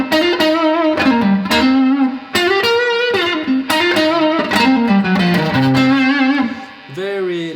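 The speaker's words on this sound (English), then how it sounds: "here's the neck pickup with some drive." A 1978 Fender Antigua Telecaster played through its neck pickup with overdrive and a touch of spring reverb rings out in a melodic run of sustained, bending notes, close and loud.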